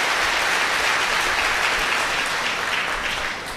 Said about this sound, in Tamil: இவருக்கு நம்ம ஒரு கைத்தட்டு கொடுத்துட வேண்டாம்?